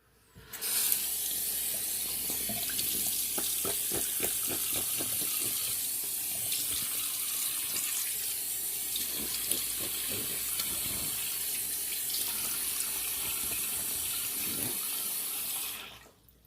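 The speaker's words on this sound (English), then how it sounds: "Okay, let's rinse off and apply the aftershave." Tap water runs steadily from a faucet into a sink for rinsing off after a shave with a 1928 Gillette Tuckaway razor, a continuous close hiss with faint splashes throughout and no talking.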